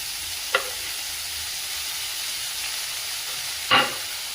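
Spinach sautéing in a little oil for a home-style palak bhaji, a steady soft sizzle and hiss with two brief scrapes of a spoon in the pan, close with no talk.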